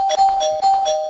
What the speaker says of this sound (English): he's ringing the bell and saying Marcus just submitted